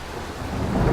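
A video game's dynamic weather system plays a thunderstorm: a deep, continuous thunder rumble over steady rain, swelling slightly toward the end of the brief moment.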